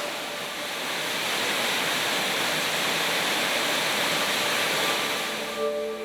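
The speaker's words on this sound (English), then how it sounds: "we saw this waterfall, and we were pretty happy to see it." A steady, dense roar of rushing water pours continuously, broad and loud, like a waterfall in a remote Arkansas canyon heard from nearby with no voices.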